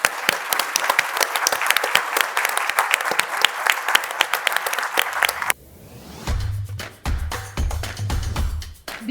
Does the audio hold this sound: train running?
no